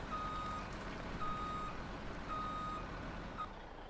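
Dump truck in Farming Simulator 17 sounding its reversing alarm: a steady run of evenly spaced electronic beeps over a low engine rumble, moderate in level, with no one talking.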